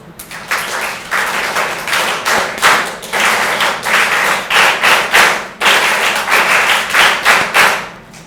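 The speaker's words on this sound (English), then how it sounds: "So you can give your clap together, please" NCC cadets clapping together at a disaster-management youth event, loud sharp rhythmic claps in repeated bursts with brief pauses, close and filling the room.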